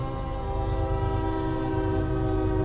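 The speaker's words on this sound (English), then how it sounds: "I hear a train." A train rolls past a park near a parking lot, its horn sounding as a loud, steady, sustained tone over the low rumble of the cars, close by and continuous throughout with no voices.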